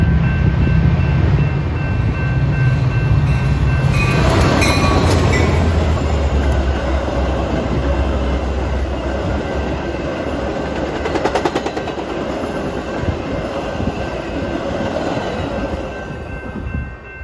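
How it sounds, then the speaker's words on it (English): A Metra commuter train with two locomotives rumbles past close by, loud and steady, with rolling wheel clatter and rhythmic clicks over rail joints throughout. "Here we have an Elburn-bound Metra train at 10:32."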